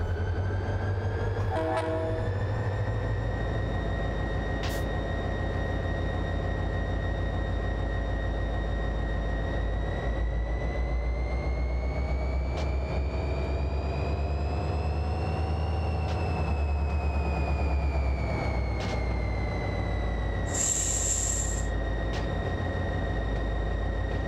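Diesel locomotive engines in the Run 8 train simulator drone steadily and loudly throughout, with a long horn-like tonal blast near the end over the continuous rumble.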